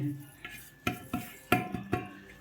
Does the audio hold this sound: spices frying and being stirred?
yes